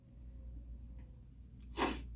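A single sharp sneeze bursts out near the end after a quiet, faint background hum.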